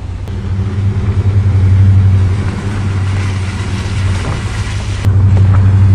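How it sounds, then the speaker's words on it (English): A Subaru car leaving a farm, its steady engine drone close and loud with a deep low rumble throughout, swelling slightly as it pulls away. "the Subaru marks the 39th car to leave Dave's farm for good in the last 3 weeks"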